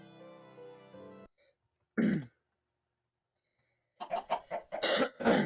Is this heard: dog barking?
no